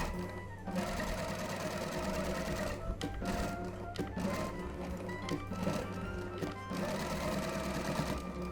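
A sewing machine stitching dress seams runs steadily and close, a fast even mechanical chatter that carries on almost without a break, with a couple of short pauses and changes in pace.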